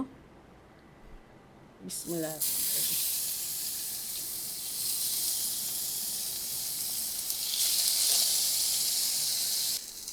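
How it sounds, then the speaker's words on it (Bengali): Bata fish sizzling in hot oil in a pan, a steady broad hiss of frying that starts after a brief clatter around two seconds and continues loud and even to the end. "মাছগুলো আমি উল্টি পাল্টে খুব ভালো করে ভেজে নিয়েছি"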